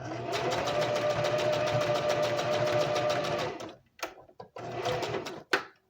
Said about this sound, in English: Remember to reverse stitch that.